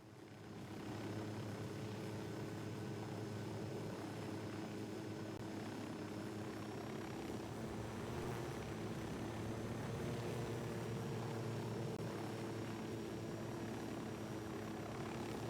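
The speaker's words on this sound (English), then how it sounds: "Nomad, deploy your drone." Drone flying in Ghost Recon Wildlands, a steady droning buzz of propellers hovering at a constant pitch, faint and continuous throughout with no talk.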